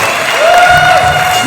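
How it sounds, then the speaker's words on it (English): Audience applause at a high school scholarship awards ceremony, steady clapping filling the room for a moment as a student is introduced, with a faint tone running through it. "Please give Eli a round of applause."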